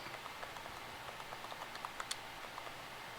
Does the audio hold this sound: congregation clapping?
no